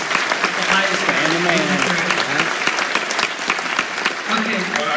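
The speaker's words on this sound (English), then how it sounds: "I think we should give a round of applause for Stan Winston" Audience applause at a Beyond Fest Schwarzenegger double feature Q&A, given in tribute to Stan Winston; steady, dense clapping from a large crowd fills the whole stretch, with a voice speaking over it.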